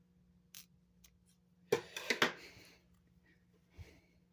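A plant is cut into three sections for propagation, giving a few short, sharp snips and cuts close by, with a quick cluster in the middle and faint clicks around it.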